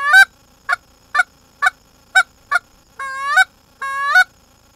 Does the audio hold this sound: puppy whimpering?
no